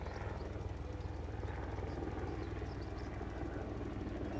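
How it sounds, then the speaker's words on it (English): A helicopter, apparently on the ground rather than flying, makes a loud, steady rotor and engine roar with a fast, low thumping pulse that stays constant throughout. "There we go, there's the helicopter."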